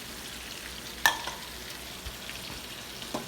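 Mushrooms and hot sauce cook in a pan with a low, steady sizzle, punctuated by one sharp metallic clink and a few soft stirring scrapes.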